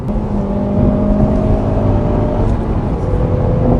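A steady, low engine hum from a second-generation Hyundai Veloster 1.6 turbo manual in Refined engine-sound mode, idling or cruising smoothly, with a constant drone and no sharp revs.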